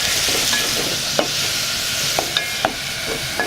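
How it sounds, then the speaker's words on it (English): Onions and carrots stir-fry in oil in a Lamu Island kitchen in Kenya, a dense continuous sizzle broken by several sharp scraping knocks of a utensil against the pan, close up and without talk. "she first stir-fried some onions and carrots and caramelized them in some oil"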